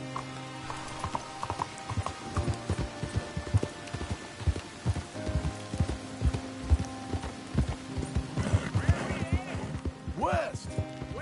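Horse hooves clip-clop steadily in Red Dead Redemption 2, a close rhythmic trot running throughout with a brief whinny near the end, under intermittent talk and music.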